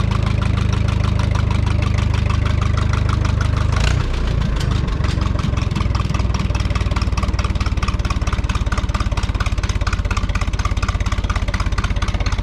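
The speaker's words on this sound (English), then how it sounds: "Seems like the idle picked up a little bit." A diesel Minneapolis-Moline tractor engine idles steadily throughout, a low rumbling chug that shifts slightly in pitch and rises a little after a few seconds, with no talking.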